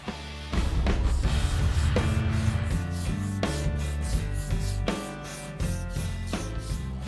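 Continuous rough rubbing and scraping of a sanding block worked back and forth over a car body, steady and close with rhythmic strokes.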